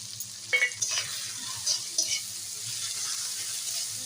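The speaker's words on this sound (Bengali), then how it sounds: "তেলের উপরে টমেটোটাও ভাজা হয়ে গেছে" Tomato with turmeric, Kashmiri chilli and salt sizzles in hot oil, a constant close-up crackle broken by a few sharp clinks and scrapes of a spoon stirring the pan.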